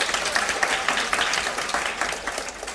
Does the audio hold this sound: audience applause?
yes